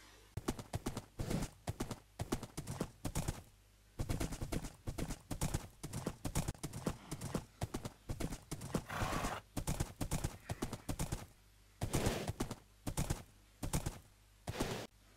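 Horse hooves clip-clop in a steady, loud rhythm of repeated close strikes, with a brief whinny partway through.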